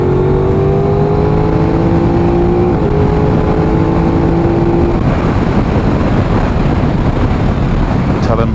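A motorcycle on a race track accelerates hard, its loud, close engine note climbing steadily in pitch with a brief shift partway through, then breaking into a dense, roaring rush.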